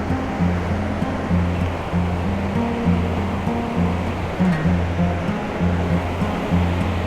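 A fast-flowing mountain river on the Manimahesh Yatra route in Bharmor rushes loudly and steadily, with low music-like tones running underneath.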